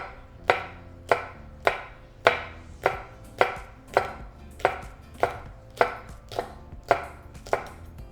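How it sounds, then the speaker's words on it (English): A kitchen knife chops jalapeño and serrano chiles into rounds on a cutting board, about a dozen sharp, evenly spaced cuts landing close and clear with no one talking. "for my jalapeno, and for my chile serrano, I like to cut it in rounds"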